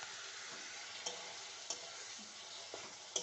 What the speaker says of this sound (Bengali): আদা, পেঁয়াজ, কাঁচা লঙ্কা দিয়ে একটু ভালো মতো কষিয়ে নেব।